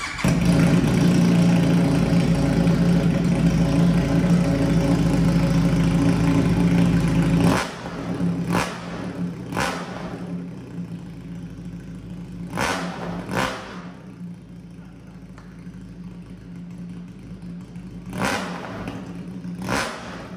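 A Benelli motorcycle with its catalytic converter removed idles with a loud, steady engine drone, then settles lower and gets several sharp throttle blips spaced apart, each rising briefly above the idle.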